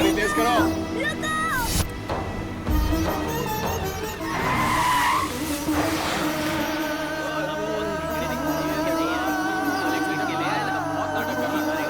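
A car racing with its tyres skidding and squealing, a loud sustained screech with engine roar throughout, mixed under dramatic music and shouting voices.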